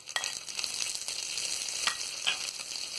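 Green chillies sizzling with fried onions in hot oil while cooking sambar, a steady crackling fry with occasional stirring clatters, close and continuous with no talk.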